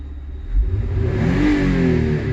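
A 2004 Toyota Highlander engine with misfires and stalling revs slowly, a low rumble rising steadily in pitch over a couple of seconds, close and fairly loud.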